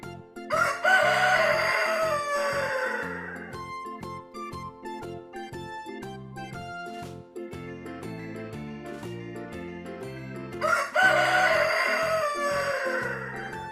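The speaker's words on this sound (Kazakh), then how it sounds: "Әтеш." A rooster crows loudly and close, two long cock-a-doodle-doo calls at the start and end, with a tinkling musical backing running underneath throughout.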